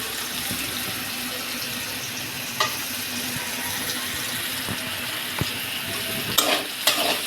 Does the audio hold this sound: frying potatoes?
yes